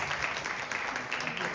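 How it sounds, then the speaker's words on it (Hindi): Audience applause at an awareness program gathering, a brief burst of many hands clapping, fairly loud and dense throughout. "जोरदार तालियां दे सकते हैं बिटकॉइन के लिए"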